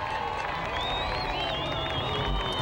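Imperadores do Samba supporters packing the stands at a samba school parade in the Porto Alegre carnival, a broad distant crowd roar with scattered cheers, whistles and claps, a voice talking over it.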